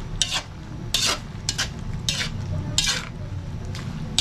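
Chop suey is stirred and tossed in a pan, with rhythmic scraping strokes repeating about every half second over a low, steady sizzle of frying.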